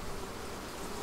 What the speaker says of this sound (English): Oh, a lot of bees here.